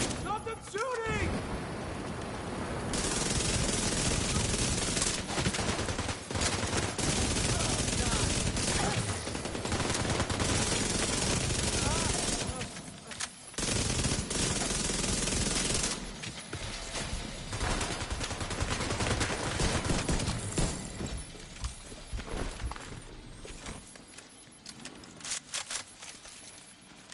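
Gunfire in the video game The Division 2: long, dense stretches of rapid automatic shooting and explosive bursts, loud and sustained with brief pauses, while a voice talks over the action.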